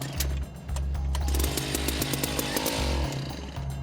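A gas-powered ice auger, a different one than usual and costing a couple hundred dollars, bores through lake ice for setting fishing nets, its engine revving loudly and steadily in bursts with slight dips in pitch.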